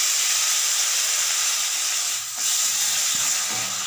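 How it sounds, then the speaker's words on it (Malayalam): Steady loud sizzling hiss as tomato sauce is poured into a hot pan while making chicken kondattam, with a brief dip midway before the sizzle continues. "ഇനി അതിലേക്ക് ടൊമാറ്റോ സോസ് ഒഴിച്ചു കൊടുക്കുകയാണ്."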